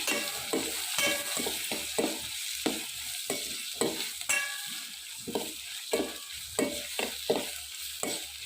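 Chopped onions stir-fried in a pan for bundhi curry, a steady loud sizzle under repeated scraping strokes of a spatula, with no talking.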